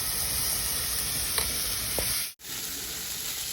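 Spice paste sizzling steadily in a hot pan after tomato puree is added, a close, even hiss with a couple of faint clicks and a brief dropout in the middle, no voices.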